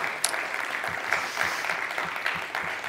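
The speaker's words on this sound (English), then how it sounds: "Can I get a big round of applause for Mr. Ren Xi" Audience applause for Mr. Ren Xi at the grand finale of the Urban Greenhouse Challenge, a steady wash of clapping hands lasting the whole stretch at even, moderate loudness with no voices over it.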